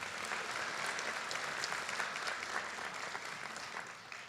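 At a high school graduation ceremony, the audience applauds dignitaries with a steady, dense round of clapping heard from a distance, holding evenly before easing off at the end.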